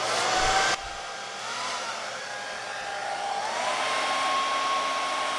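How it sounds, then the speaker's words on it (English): A small Conair hair dryer with a tip attachment whirs steadily at close range, its motor pitch shifting slightly partway through after a brief louder burst at the start. "I'm going to use my little Conair dryer."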